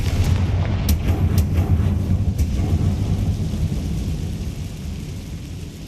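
A fiery Confringo spell explosion in Hogwarts Legacy, a booming burst with sharp cracks up front that rolls into a heavy, fading rumble, loud and alone.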